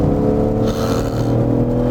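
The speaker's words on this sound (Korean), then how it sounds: "M은 요 엔진음과 배기음이 기깔나요." A BMW M car on rain-wet roads, fitted with new Hankook Ventus Evo tyres, drives with a loud, steady engine and exhaust drone and a brief swell of revving partway through, heard from inside the car.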